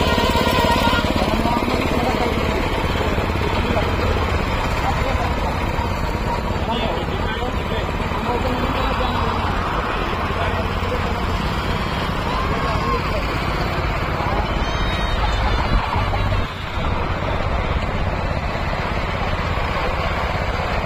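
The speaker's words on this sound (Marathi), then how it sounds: "7 HP चा मिनी पॉवर विडर रोटावेटर, त्याला आपण हे सोयाबीन कोळपणी यंत्र या ठिकाणी जोडलेलं आहे" A 7 HP mini power weeder rotavator with two forward and one reverse gear, fitted with a soybean weeding attachment and two rear tines, runs steadily throughout with a loud continuous engine drone, while a voice talks over it.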